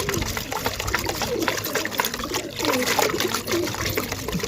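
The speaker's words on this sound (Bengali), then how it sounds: "এটা পানির সাথে বন্ধুরা ভালো করে মিক্স করে নিতে হবে।" Pigeon supplement is stirred into water, giving a continuous close trickling, sloshing liquid sound that runs steadily for the whole few seconds with no voices.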